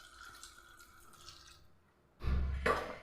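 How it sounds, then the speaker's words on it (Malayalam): Water is poured into a pressure cooker for about a second near the end, a close, full splash after a quiet stretch of faint kitchen background. "ഇതിലേക്ക് നമുക്ക് വെള്ളം ഒഴിച്ചു കൊടുക്കാം"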